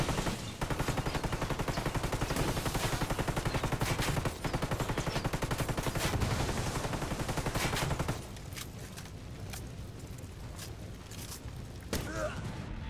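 Rapid automatic gunfire in Ghost Recon Wildlands, loud and continuous bursts for about eight seconds, then quieter game ambience with a single later shot.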